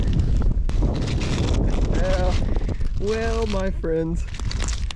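Cold wind blows outdoors at an arrowhead-hunting site near an old burn dump, a loud steady rumble buffeting the microphone throughout while someone speaks over it.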